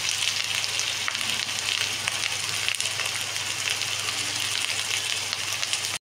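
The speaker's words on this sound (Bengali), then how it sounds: "সুন্দর মশলা কষা হচ্ছে" Spice paste for a Bengali-style anchovy curry frying in a pan, a dense, steady sizzle that holds at an even level throughout with no voices.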